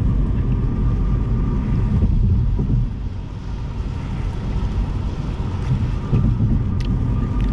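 An electric MINI cruises at about 60 mph, heard from inside as a steady low road and wind rumble with no engine note, fairly quiet and continuous throughout.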